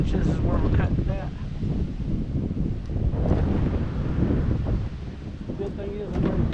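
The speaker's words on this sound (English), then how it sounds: "the wind all of a sudden decided it wanted to blow" Steady wind gusts roaring across the microphone at a barn under construction, loud and continuous throughout with swelling rushes and a faint voice underneath.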